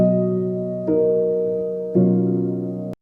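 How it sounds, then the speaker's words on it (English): Solo piano part bounced from Ableton without drums: three sustained chords struck about a second apart, each ringing on and slowly fading before the next, ending abruptly. "I've just bounced out the piano part without the beat, which sounds like this."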